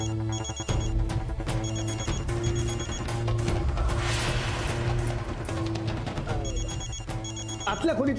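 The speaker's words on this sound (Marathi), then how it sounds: "आतल्या खोलीतला फोन वाजतोय, मी बघतो कोण आहे ते." A telephone in an inner room rings in repeated bursts with short gaps between them. The ringing plays over background music and other sounds of a television drama scene.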